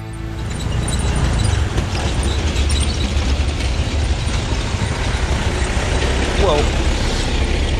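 Traffic rumbles past on a road near Mount Merapi, Indonesia, a steady low drone of engines with trucks and cars going by continuously and close.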